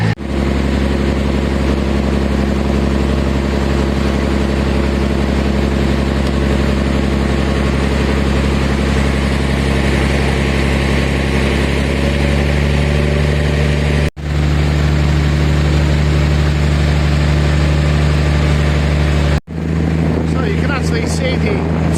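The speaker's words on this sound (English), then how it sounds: "So, looks like a nice comfortable little boat" A passenger boat crossing from Koh Phangan to Koh Samui runs its engine in a loud, steady low drone with no let-up, apart from two brief dips near the end.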